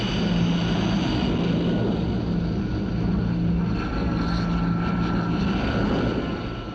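Hawker Siddeley Kestrel jump jets, a 1965 three-nation squadron, taking off from a small clearing: a loud, steady jet roar with a low rumble that holds at full strength throughout and eases slightly at the very end.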